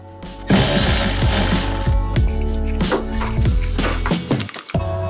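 A ratchet wrench loosening the steering coupler bolt on a Porsche 911, rapid close clicking pawl strokes repeating in quick bursts, loud and alone.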